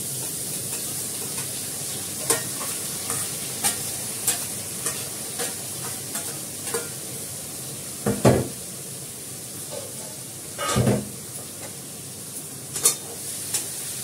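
Onion, garlic, ginger and bay leaf fry in hot oil with potatoes in a pan, a steady loud sizzle under irregular spatula scrapes and clanks, with two heavier stirring bursts partway through.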